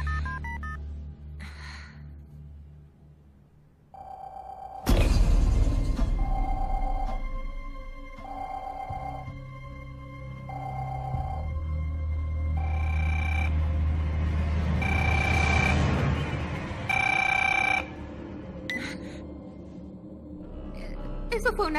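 A telephone is dialed with a series of beeping tone presses, followed by a steady repeating electronic ring tone, with voices speaking over parts of it.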